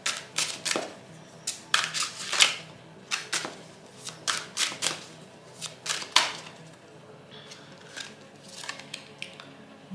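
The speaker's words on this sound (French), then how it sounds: "La carte s'est retournée." Tarot cards being shuffled, handled and turned over, a run of short crisp papery riffles and flicks in irregular bursts, close by and fairly quiet, with no talk.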